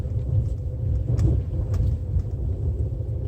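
A Nissan Murano rolls over a bumpy unpaved dirt trail, giving a steady low cabin rumble with road noise and faint knocks from the uneven surface, no talking.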